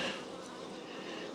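A dense, continuous buzz of many honey bees swarming close by on a hive frame, steady and loud with no pauses or voices.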